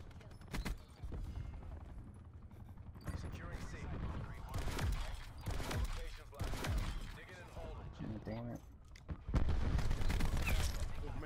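Spitfire gun in Call of Duty Black Ops 4, rapid bursts of game gunfire coming in uneven clusters alongside other battle noise, with a player talking over parts of it.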